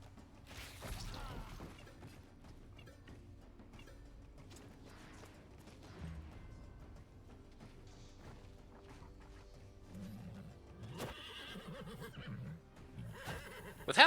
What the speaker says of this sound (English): With how much attacking this horse does